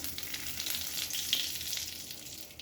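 Bay leaf, dried red chilli and cumin sputter in hot mustard oil in a kadai as the tempering for a papaya and potato vegetarian dish, giving a steady, close crackling sizzle with no voices.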